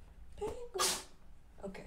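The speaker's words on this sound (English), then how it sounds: "are you sneezing?" A single sharp sneeze bursts out nearby, preceded by a short breathy intake, with a brief spoken word on either side of it.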